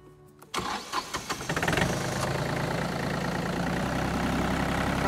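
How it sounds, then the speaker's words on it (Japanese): A tractor engine cranks with a few chugging turns, catches and settles into a steady, loud idle running close by with no talk. "でエンジンかけてみて"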